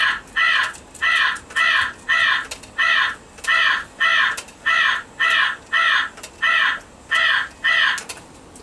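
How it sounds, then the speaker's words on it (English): A hard-plastic Halloween toy raven prop with light-up eyes and flapping wings gives a steady run of about fifteen loud, evenly spaced electronic caws, repeating alone without pauses or talk. "Next thing I've got is this little raven."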